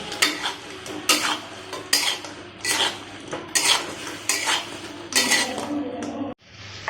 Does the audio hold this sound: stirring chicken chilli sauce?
yes